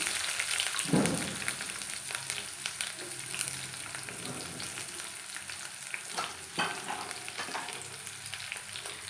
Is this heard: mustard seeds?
yes